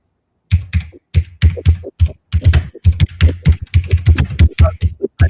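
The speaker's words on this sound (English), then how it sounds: "It's a mechanical keyboard." A mechanical computer keyboard typed on rapidly and close by, loud clacking keystrokes in quick irregular bursts with brief pauses between.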